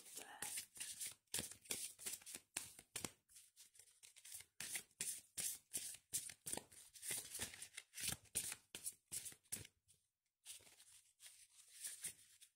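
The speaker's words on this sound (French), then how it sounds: "on va voir si les cartes sautent" Tarot cards being shuffled by hand in a steady run of crisp riffling bursts with short pauses, close and fairly loud, while someone talks over much of it.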